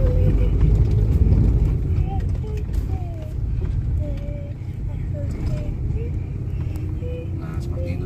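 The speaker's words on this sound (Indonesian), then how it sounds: "teman-teman injak gasnya diinjak, dan ketika mobil sudah mulai bergetar seperti ini, sudah mulai berasa dia mendorong ke depan ya" A car engine revving steadily as the car starts on a hill, a continuous low hum and vibration close by with a voice talking over it throughout.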